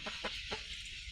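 Chickens sitting in a coop built for egg laying give a few soft clucks in quick succession over a low steady background hum, faint and close.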